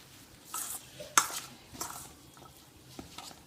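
A spoon scrapes and clinks against a bowl in a few short bursts while mixing tikki ingredients, with soft stirring sounds in between and no talking.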